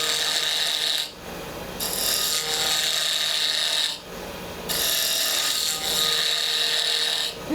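A turning tool cuts wood on a lathe for a small Christmas ornament, giving a loud continuous scraping rasp in long passes that break off into brief pauses between cuts.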